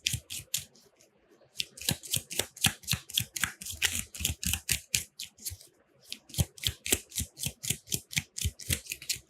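Tarot cards being shuffled by hand, a steady run of crisp riffling flicks in quick bursts. There is one short pause partway through, then the flicks resume, close and clear with no talking.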